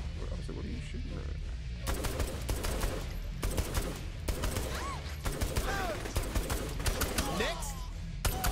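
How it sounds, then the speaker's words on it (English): Gunfire in Saints Row The Third rattles in repeated rapid bursts, loud and steady, with a voice talking over part of it. "what are you shooting at?"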